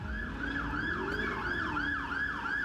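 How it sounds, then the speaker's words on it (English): A loud police car siren wails, rising and falling in a fast repeating cycle, close by and continuous during a police chase, with a low engine rumble beneath it. "hearing the police sirens behind"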